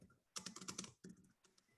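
Typing on a computer keyboard during a math class lecture: two quick bursts of clattering keystrokes, close and fairly faint, with a short pause between them and no talk.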